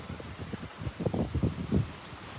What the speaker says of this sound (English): the gust front passed